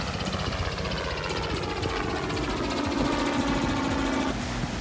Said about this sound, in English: Get a helicopter, Hachi.